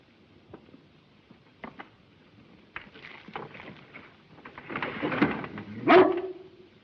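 A dog barks in a few scattered bursts, then grows louder and ends in a rising, high-pitched whimper against a faint outdoor background, with no one talking.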